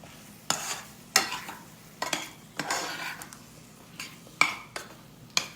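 A spoon stirs food in a pot to coat it in caramel, giving a series of sharp scraping clinks against the pan at irregular intervals over a soft background, with no talk.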